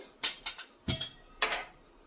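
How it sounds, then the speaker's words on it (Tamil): A heavy stone kal chatti cooking pot picked up in a home kitchen for rasam, giving several sharp hard clinks and knocks in quick succession, close and fairly loud, with no talk. "இப்போ நான் வந்து கல் சட்டியை வந்து எடுத்துட்டு இருக்கேன் ரசம் பண்ணுறதுக்கு"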